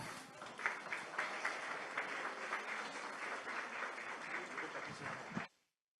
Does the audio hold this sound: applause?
yes